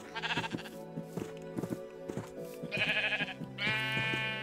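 Sheep bleating in a panic in the Minecraft video game, several wavering bleats overlapping one another over a steady background tone, close and fairly loud.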